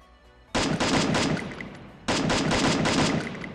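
Automatic weapon fire from a Free Fire solo ranked match: two loud, close sustained bursts of rapid shots, each rattling for over a second, with no voices over them.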